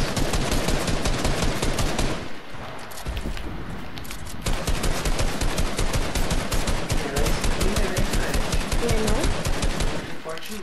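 Rapid bursts of automatic gunfire in Fortnite rattle almost continuously, pausing briefly once, dense and loud throughout with game effects layered in.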